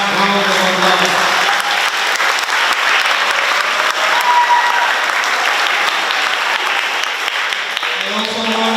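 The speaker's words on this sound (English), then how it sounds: "May I ask that we give them one more big round of applause." An Education Week audience gives a big round of applause, sustained loud clapping with some crowd voices that holds steady for several seconds before a speaker's voice returns.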